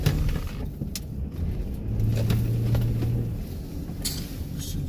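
A 2008 Honda Odyssey minivan drives and picks up speed, its steady mid-range engine and road noise holding throughout, with a brief tonal rise partway through as it accelerates.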